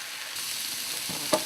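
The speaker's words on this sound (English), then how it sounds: "To put these in there, they're going to sizzle, sizzle, sizzle." Onions sizzle and crackle steadily in hot oil in a pan over high heat, with a brief clink near the end.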